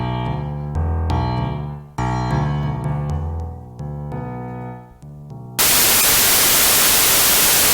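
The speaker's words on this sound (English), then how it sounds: "There's the white noise" A VST synth plugin plays a few piano-like chords, then switches abruptly to loud, steady white noise, a flat broadband hiss that continues alone to the end.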